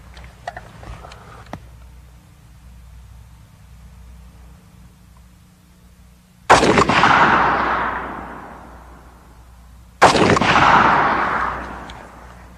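An FN rifle chambered in 7.62x51 NATO (.308) fires two loud, sharp shots outdoors several seconds apart, each followed by a long rolling echo that slowly fades, after a quieter stretch of faint handling noise.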